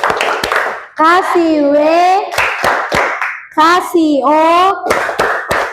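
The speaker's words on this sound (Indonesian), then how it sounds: "beri tepuk wow dulu untuk kelompok keempat" A classroom of children claps out the rhythmic 'tepuk wow' chant, with sharp unison claps between loud drawn-out shouted syllables, led by a teacher's voice.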